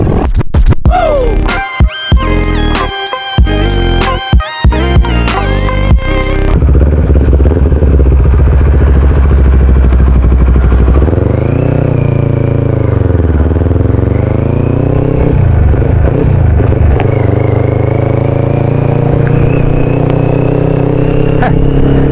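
A CFMoto 650MT motorcycle engine hums steadily while riding, rising and falling as the bike accelerates, after a burst of sharp clattering handling noises at the start, with wind noise and a voice talking intermittently.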